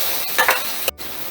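A turmeric and chili mixture dissolved in water hits a hot pan for Mushroom Matar Malai: a couple of short stirring scrapes, then a bright hiss of sizzling that cuts off abruptly, close and loud.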